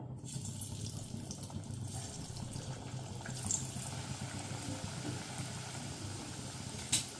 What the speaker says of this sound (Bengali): ভাকার বড়িগুলো ভাজার জন্য গ্যাসে কিছুটা রিফাইন তেল দিয়ে গরম করে নিয়েছি